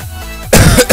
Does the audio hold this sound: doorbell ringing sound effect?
no